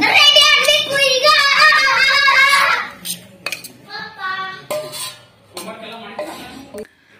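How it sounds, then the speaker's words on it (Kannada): A spoon clinks and scrapes against a bowl as sweet corn is mixed with pepper powder and lemon juice, with loud, close strokes while a voice and other speech carry over the clatter. "ಇವಾಗ ಚೆನ್ನಾಗಿ ಮಿಕ್ಸ್ ಮಾಡ್ಕೊಳ್ಳೋಣ"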